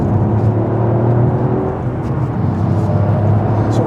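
Loud, steady engine and road drone from inside a 2021 Toyota Yaris GR driving on a road, a constant low hum with tire roar and no speech.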